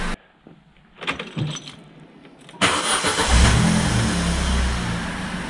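A Vauxhall Corsa D 1.2 engine starts after a crankshaft sensor replacement: keys jangle and a brief crank sounds, then the engine catches and settles into a steady, loud idle with no talk.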